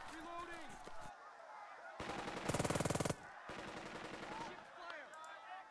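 Machine gun fire in the World War II tactics game Burden of Command, a rapid, evenly spaced burst of loud rattling shots in the middle, with lighter distant firing and battlefield noise around it.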